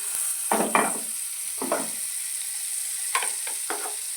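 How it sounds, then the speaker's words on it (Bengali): Butter melting in a pan for frying paneer gives off a steady sizzle with several short bursts of louder crackling and stirring scrapes, close by and without talk. "বাটার দিলাম, ভালোভাবে মেল্ট করে নিচ্ছি"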